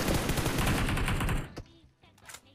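Rapid gunfire in PUBG Mobile, a sustained loud burst of automatic shots for about a second and a half, then a couple of fainter, more distant single cracks as things quiet down.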